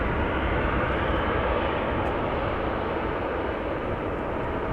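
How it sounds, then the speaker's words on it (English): Airliner taking off from runway 24 at Amsterdam Schiphol, heard as a steady, loud broadband jet roar that fills the whole stretch without letup and with no voices over it. "you're also hearing this airplane take off from runway 24"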